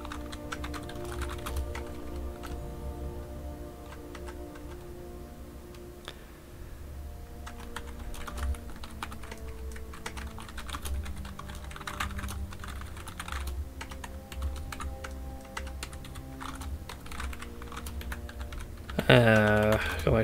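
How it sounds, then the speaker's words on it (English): Intermittent keyboard typing under an ongoing hum and background sound, scattered clicks across a long stretch, with a louder clatter right at the end. "Gotta make sure I'm typing that in right."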